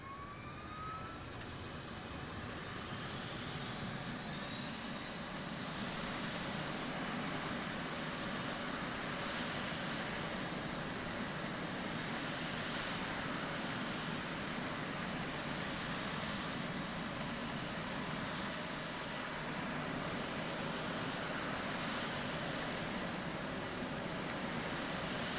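An aircraft taxiing in a Call of Duty video game, a steady, loud engine roar with a continuous turbine whine that holds unchanged throughout, with no voices over it.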